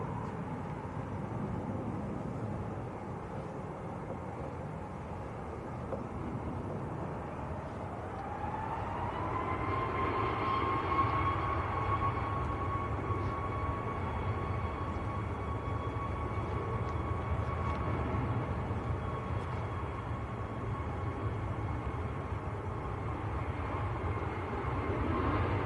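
A Qatar airliner taxiing for a full-length takeoff at Manchester Airport gives a steady low jet-engine rumble, with a rising whine that settles into a sustained hum; no one speaks.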